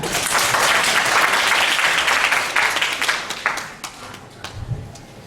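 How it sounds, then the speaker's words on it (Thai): An audience claps to welcome a doctor lecturing on head injury, a full burst of applause that thins out after a few seconds into scattered, fading claps. "ขอเสียงปรบมือให้อาจารย์สุขสันต์เตชาพิสุทธิ์ค่ะ"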